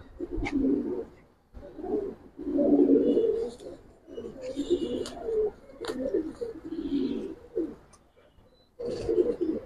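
Giribaz and coloured pigeons being handled for sale coo in a string of low, rolling bursts separated by short pauses, close to the microphone with faint background noise.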